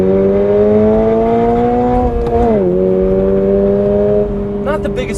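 Toyota GR86 engine heard from inside the cabin, a steady droning hum with clear harmonic tones that dip slightly then hold, continuous and fairly loud throughout.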